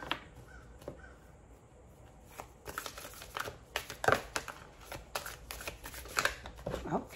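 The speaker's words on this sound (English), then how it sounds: "Shuffling for the Divine Feminine." Tarot cards being shuffled, a crisp riffling and flicking in irregular bursts up close, with occasional sharper snaps and no talking.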